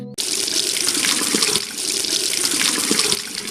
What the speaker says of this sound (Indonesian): Pakai keran air yang di taman saja.